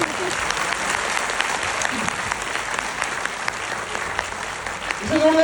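A crowd at a Forever Living Products business gathering gives Shubham sustained, loud applause, a thick even wash of clapping that carries on without pause, with a voice beginning to speak just at the very end.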